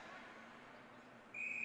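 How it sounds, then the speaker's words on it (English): Referee's whistle at a women's college ice hockey game, a sharp, steady tone starting late in the clip over a constant rink and crowd murmur. "And there is the whistle"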